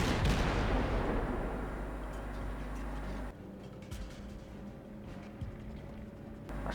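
Booming gunfire from the destroyer Farragut in a naval battle game, loud and dense at first, then a steadier rumble with scattered fainter shots as it continues.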